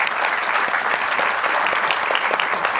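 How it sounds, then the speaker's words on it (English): A seated audience at a cancer forum panel session on genomics gives sustained, dense applause welcoming the panel members, steady and fairly loud throughout. "Give them all a round of applause."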